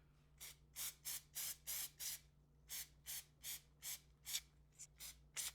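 A series of short hissing sprays from an aerosol can of marking paint, about a dozen quick bursts in a steady rhythm, close by over a low background hum.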